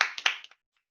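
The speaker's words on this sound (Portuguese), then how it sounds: "Uma salva de palmas para vocês." A few people clapping at a church couples' service, several quick hand claps close together that stop abruptly after about half a second, then silence.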